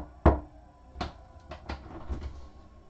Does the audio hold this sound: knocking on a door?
yes